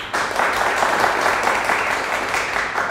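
Studio audience applause on a Turkish TV game show, a dense, steady burst of clapping that starts abruptly and holds at full strength for a few seconds.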